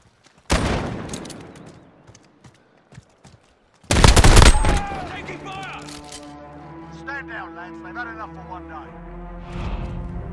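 Gunfire rings out in Call of Duty Modern Warfare as loud, close bursts of automatic fire with sharp cracks, trailing into scattered shots and ringing effects while voices speak.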